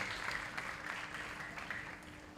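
Faint, steady applause from an audience at a performing arts awards ceremony, a soft wash of clapping that sounds distant and evenly sustained for a couple of seconds.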